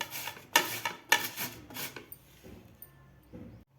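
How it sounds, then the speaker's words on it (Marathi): Cucumber grated by hand for khira raita, only the outer flesh around the seeds: four or five quick rasping strokes up close, then a few softer scrapes trailing off. "अशा प्रकारे आपल्याला खिरे खिसून घ्यायचे आहेत।"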